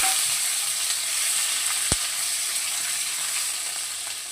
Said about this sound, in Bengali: দিয়ে হালকা লাল লাল করে আলুগুলোকে ভেজে নেব